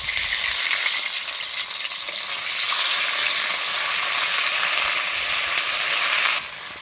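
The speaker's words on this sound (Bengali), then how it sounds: "আদা রসুনটি আমার খুব ভালো করে ভাজা হয়ে গেছে।" Ginger-garlic paste frying in a hot kadai, a loud, steady close sizzle that carries on for several seconds with faint stirring underneath before easing slightly at the end.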